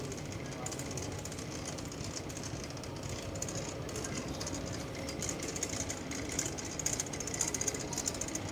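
An Airport Rail Link train at Suvarnabhumi Airport in Bangkok gives a steady, fairly faint rumble and rattle, heard from an underground station with crowd noise around it.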